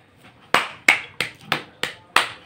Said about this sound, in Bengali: হাততালি কেন দিলাম জানো, ক্ল্যাপ কেন দিলাম জানো?